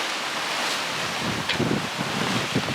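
Strong wind roaring over the microphone with rough waves splashing around a sailboat under jib alone in about 23 knots of apparent wind, a loud steady rush with brief water slaps.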